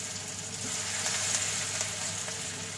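Chicken pakora with curry leaves fries in hot oil with a loud, steady, close-up hiss and crackle. Faint stirring clicks sound now and then, and no one speaks.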